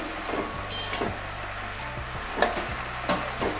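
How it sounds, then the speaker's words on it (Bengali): Greens (data shak) stirred and turned in a pan, soft scraping and occasional clinks of the utensil over a steady low sizzle, close and fairly quiet. "সবগুলো মিশিয়ে নেব এতে আস্তে আস্তে করে নিচের শাকগুলো সব উপর দিকে দিয়ে দিচ্ছি"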